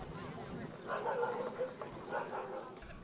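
Dogs at the CACIB Subotica 2019 dog show at the Kelebija stud farm, several yips and barks rising in short bursts over crowd murmur and talk.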